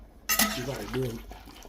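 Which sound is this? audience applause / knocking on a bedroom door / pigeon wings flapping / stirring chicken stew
stirring chicken stew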